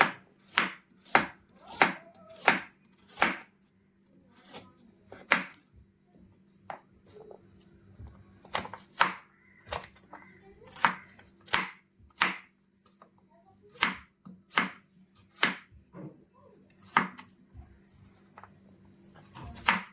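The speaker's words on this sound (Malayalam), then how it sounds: "ഇനി ഇതെല്ലാം നമുക്കൊന്ന് ചെറിയ കഷ്ണങ്ങളായിട്ട് നമുക്ക് അരിഞ്ഞെടുക്കാം" A knife chopping ginger and vegetables into small pieces on a board, crisp close thuds in quick bursts with short pauses between runs, no talk.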